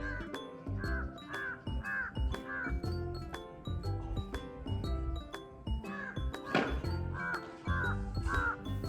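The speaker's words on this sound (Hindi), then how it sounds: "सुबह सुबह इतनी शांति है कि एक एक पंछी की आवाज़ इतनी क्लियर सुनाई दे रही है ना" Birds call one after another in a quiet early morning near a dam in Himachal, with clear, repeated chirps and short whistled notes over a soft background and no talking.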